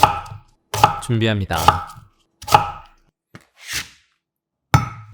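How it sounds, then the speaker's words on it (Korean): Kohlrabi halved and cut into thick 1 cm slices with a knife on a board: several sharp, separate chopping thuds spaced out over a few seconds, close and clear, with a brief spoken phrase among them. "콜라비 2개는 손질해서 반을 잘라주고 1cm 두께로 도톰하게 편 썰어"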